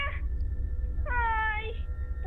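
A cat gives two drawn-out meows a second apart, close and clear, over a low rumbling background.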